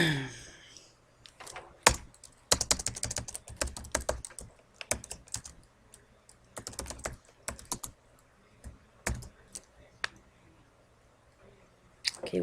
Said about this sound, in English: is that proper typing technique